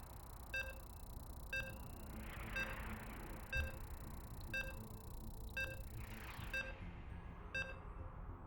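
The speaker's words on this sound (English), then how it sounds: "And here we go, the beeps are upon us." StarCraft 2 game start beeps sound at a StarCraft 2 tournament match: a steady series of short electronic tones about once per second, eight in all, over a busy arena background with soft whooshing swells.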